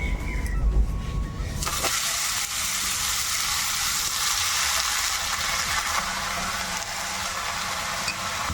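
Chopped, washed vegetables hit a pan of lightly fried moong dal: a low rustle gives way to a sudden, loud, broad frying hiss that keeps going steadily, with faint stirring underneath, close up.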